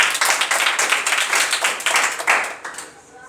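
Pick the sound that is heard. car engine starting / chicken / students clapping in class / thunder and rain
students clapping in class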